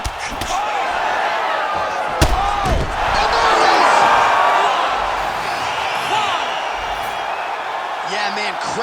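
Arena crowd in the EA Sports UFC 5 fighting game roars steadily in the background, swelling louder midway under loud commentator talk, with a few sharp impact thuds.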